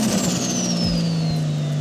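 A Nissan Skyline R34 sports car engine drones steadily with a rising whine, close and fairly loud, with a couple of brief low thumps in the middle.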